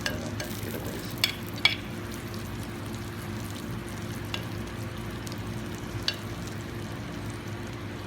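Meat and eggs frying in a Moroccan tagine, a low steady sizzle with a few sharp clicks and taps of utensils, fairly quiet and close, no voices.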